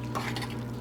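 A utensil stirring paella with red pimento peppers in a pan, a brief soft scraping and clinking over a faint steady hum.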